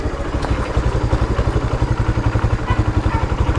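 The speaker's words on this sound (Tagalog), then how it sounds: "Oh, pasok na yung motor." A motorcycle rolls in close by, its engine chugging in a rapid, regular low pulse that grows steadier and louder as it arrives.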